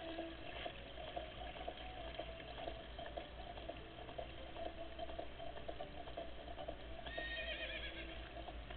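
A horse whinnies and hooves clip-clop in The Legend of Zelda: Ocarina of Time, a steady gallop running throughout with a brief high neigh near the end, no voices.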